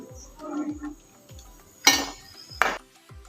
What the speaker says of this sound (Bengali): দেখুন আমার ভাজা হয়ে গেছে এবার আমি এটা তুলে দিচ্ছি